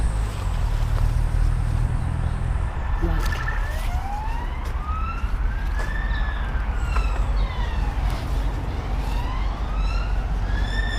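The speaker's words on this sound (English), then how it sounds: "I genuinely hope that those sirens aren't looking for me" Wailing emergency vehicle sirens sweep up and down at a distance over low traffic rumble in Milton Keynes, several rising and falling tones overlapping for a long stretch.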